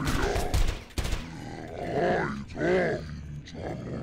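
A weapon firing in the video game Ahriman: a sharp blast near the start and later booming, roaring discharges, loud and close, mixed with a voice talking and grunting.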